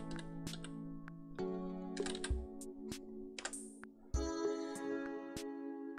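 Fingers tap out a file name on a computer keyboard, close and quiet, in short bursts of clicking keystrokes with brief pauses and no talking.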